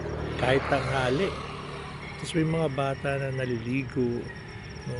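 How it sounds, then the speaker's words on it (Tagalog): Crickets chirp steadily beside a rural fishpond at midday, a faint continuous high buzz under someone talking throughout, with occasional low vehicle rumble in the background. "Madidirinig mo lang yung mga huli ng kuliglig."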